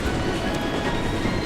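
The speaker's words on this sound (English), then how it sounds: "Another train." A train rushes past in Final Fantasy VII Remake, a dense, loud rolling roar with rattling texture that holds steady for the whole moment, with faint voices mixed in.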